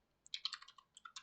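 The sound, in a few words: typing on a computer keyboard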